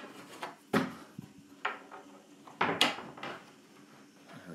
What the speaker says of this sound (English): there is the door that closes off the loft